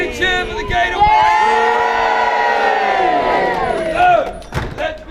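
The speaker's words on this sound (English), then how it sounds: "you are cheering the fact you've been locked out" A crowd at Warwick Castle lets out a loud, sustained cheer and shout that holds for several seconds near the gate, then breaks into scattered whoops and a few sharp knocks at the end.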